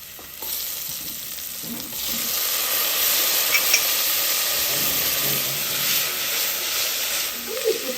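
Bell peppers and red kidney beans hit a hot pan and sizzle, a steady bright frying hiss that swells after a couple of seconds and continues with soft stirring scrapes and occasional pops.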